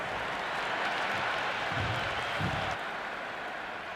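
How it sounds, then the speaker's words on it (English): Cricket stadium crowd at an MI vs CSK match cheering and applauding after a big shot over the boundary, a broad steady roar of many voices with applause throughout. "The crowd is electric right now."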